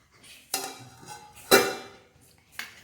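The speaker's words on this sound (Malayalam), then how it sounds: "നമുക്കിന്ന് സ്പൂൺ സ്പൂണിട്ട് ഇളക്കാം" A spoon stirs homemade juice in a glass, three bright ringing clinks about a second apart, each fading quickly, heard alone with no voices.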